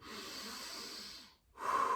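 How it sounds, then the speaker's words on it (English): Close, heavy breathing after a workout warm-up: a long, raspy exhale, a brief pause, then a loud, sharp inhale, with no speech. "We can edit out the breathing, the heavy breathing, right?"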